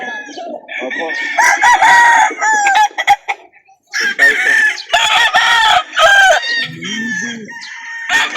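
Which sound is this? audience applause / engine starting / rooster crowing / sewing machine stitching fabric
rooster crowing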